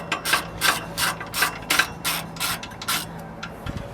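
A ratchet wrench loosens the muffler bolts on a Nissan 350Z during a home muffler delete, giving a close, rhythmic run of about eight sharp clicking strokes with no talk.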